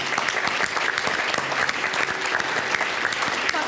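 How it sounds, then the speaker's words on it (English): Audience applause at a roundtable discussion, a steady, dense wash of many hands clapping that holds at an even level throughout without talk. "why don't we give them an applause to"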